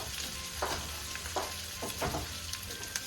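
Steak and garlic frying in a pan in a home kitchen, a steady close sizzle with a few louder spatters and stirring scrapes.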